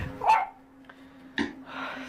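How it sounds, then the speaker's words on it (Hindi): A dog gives a few sharp barks and yips close by, separated by short pauses, with a faint steady hum in the background. "उसको कुत्ता भौंक रहा है।"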